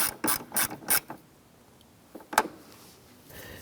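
A ratchet snugs a bolt on a 1993-1997 Ford Ranger's camshaft position sensor: three quick close clicking bursts, then a pause and one more sharp click, with quiet between.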